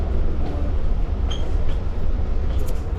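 Steady low rumble of a moving Long Island Rail Road train heard from inside the carriage, with constant rolling noise and faint clanks, no talking.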